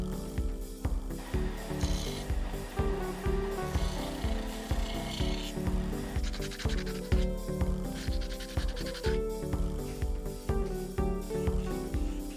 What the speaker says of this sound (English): Maybe a little sanding first.